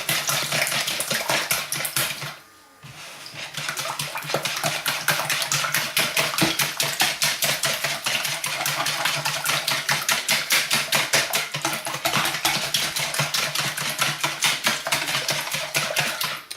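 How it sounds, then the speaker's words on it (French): A wire whisk beats milk and eggs for pancake batter in a bowl, a fast, steady, close rattling clatter of metal against the bowl that runs continuously with one brief pause. "Vous fouettez avec votre fouet."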